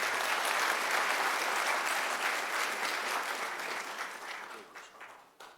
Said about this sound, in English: We can give him another round of applause.